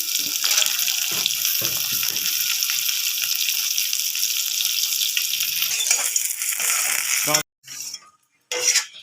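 Chopped onion hits hot oil in a wok and fries with a loud, continuous sizzle and stirring scrapes, then the hiss briefly drops out and returns near the end.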